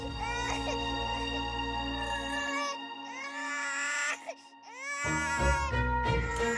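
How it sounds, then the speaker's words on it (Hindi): A baby cries in loud, wavering wails in a dramatized household scene, the sobbing rising and falling in bursts with a brief dip before resuming strongly, close and dominant. "ये सच में बच्चे के रोने की आवाज है।"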